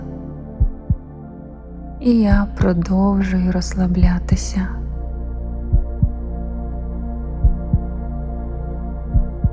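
A slow heartbeat effect in a sleep meditation thumps in low, evenly spaced beats throughout, close and soft, with a calm whispered voice speaking over the middle stretch.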